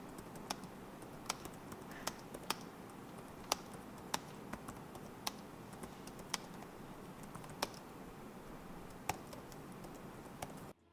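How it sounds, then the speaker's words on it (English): Clicky keys on a Microsoft Surface Laptop keyboard typed at a steady, irregular pace, crisp individual taps close up over a quiet room hiss with no talk. "the typing sound is very satisfying as it sounds very clicky"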